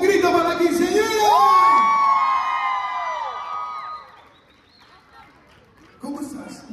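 A crowd at a quinceañera celebration shouts and cheers in a loud burst of whoops and rising cries that fades over a few seconds, then quiets before voices return.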